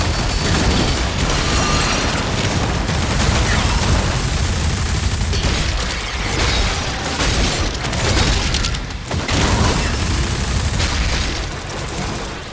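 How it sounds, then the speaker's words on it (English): Rapid-fire submachine gun in Doom The Dark Ages, a dense nonstop stream of shots layered with booms and combat noise, loud and continuous throughout. "This standard sounding rapid fire SMG might not sound too exciting"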